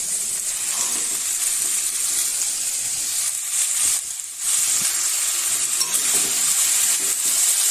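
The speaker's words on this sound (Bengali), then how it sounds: "এবার ছোলা দিয়ে ভাজি।" Chickpeas sizzle and fry in a hot pan with a dense, steady crackling hiss, loud and close, that dips briefly midway and is broken by faint stirring scrapes.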